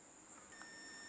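Multimeter continuity beep as the probes touch the audio ground and the 5-volt ground on an amplifier circuit board: a steady, high, piercing tone that starts partway through and holds to the end, close and loud with no talk.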